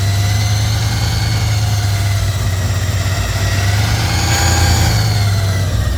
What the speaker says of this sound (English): That is the closest to idle it has ever been.